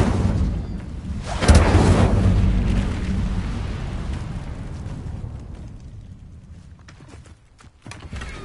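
Incendio fire spell cast in the game Hogwarts Legacy: a sudden whooshing burst of flame, loud and near, that roars and then fades slowly over several seconds, with small clicks toward the end.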